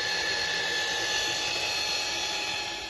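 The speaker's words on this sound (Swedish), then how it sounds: "Nu borrar vi för att montera handtag." A power drill bores holes for mounting handles during an underfloor heating and EV charger installation, giving a loud, steady, high-pitched whine that runs unbroken for about three seconds with no talking.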